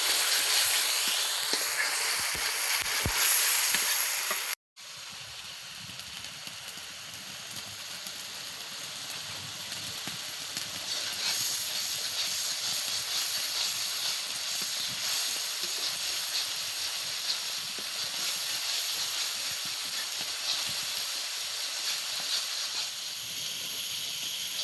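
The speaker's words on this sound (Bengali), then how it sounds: "এবার মশলাটাকে ভালো করে কষাবো।" Masala with turmeric and salt sautéing in a pan, a continuous hissing sizzle that cuts off briefly, then resumes steady and even for a long stretch, with no talk.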